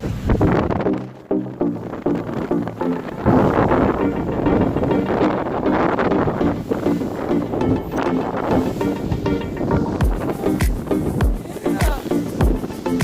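Strong 20 mph wind buffets the microphone in heavy, uneven rumbling gusts while crappie fishing from a boat in February, with water and boat noise mixed in underneath.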